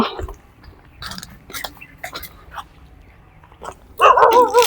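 A dog barks loudly and close by, a burst of sharp barks right at the end, after a stretch of quiet outdoor movement and scattered voices beside a canal in Laos during the dry season.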